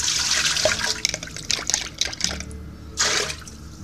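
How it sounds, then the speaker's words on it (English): A fork or whisk stirs miso base up from the bottom of a pot of liquid, giving soft sloshing and clinking swirls, close and fairly quiet, with a brief louder splash near the end. "take a fork or a whisk and mix the bottom so you get all of the miso base"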